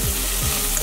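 Chili powder, turmeric and ground coriander frying in oil in a pan for a moong tadka, a steady loud sizzle with a couple of low scraping stirs.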